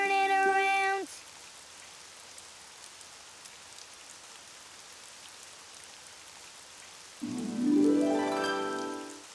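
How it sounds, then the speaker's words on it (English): Steady soft rain patters in the background, bracketed by short bursts of tonal music at the start and end. "Oh, it's raining outside."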